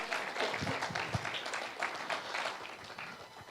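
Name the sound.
audience applause for the Lord at church service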